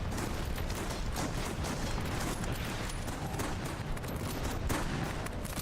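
Dense, continuous gunfire from a video game, rapid overlapping shots and bursts forming a loud, unbroken wall of noise with no pause.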